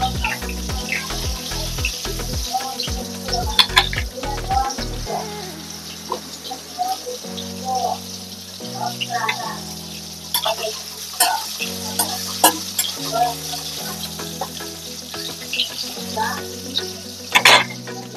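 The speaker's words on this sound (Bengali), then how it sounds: "টমেটোটা আমি কিছুক্ষণ ভেজে নেব।" Tomato frying in a pan for a paneer posto, stirred with a spatula, giving a steady sizzle broken by frequent scraping strokes and a few clinks. There is faint running water near the end.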